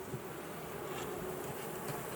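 A dense, steady buzzing of many honey bees in a 12-frame hive, continuous and close, with no voices.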